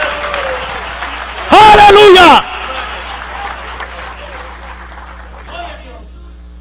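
Church congregation at an evangelical campaign service applauding, steady clapping and crowd noise under a loud shouted exclamation that briefly overloads, with applause continuing and fading afterward.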